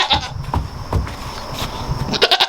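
Female goats on a farm bleating insistently for morning grain, several loud nearby calls in quick succession with brief gaps, rising into a denser cluster of overlapping bleats at the end.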